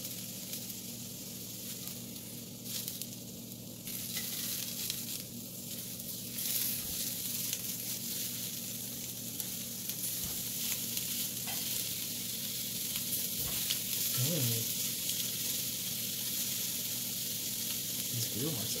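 A carrot hot dog frying in a grill pan indoors, a steady close sizzle and crackle that runs throughout with occasional louder pops and faint background noise.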